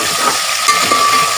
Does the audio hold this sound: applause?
no